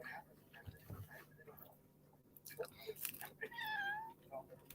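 A cat meows indoors, with faint short calls early on and a louder drawn-out meow near the end, between soft room noises and quiet talk.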